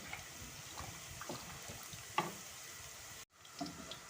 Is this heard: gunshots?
no